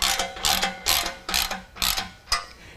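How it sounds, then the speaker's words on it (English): A ratchet with a 9/16 socket tightens an exhaust band clamp on a 2019 GMC/Chevy 1500 Crew Cab 5.3 V8, giving five quick, close clicking bursts in an even back-and-forth rhythm, with no talking. "Take a 9/16 and tighten that down."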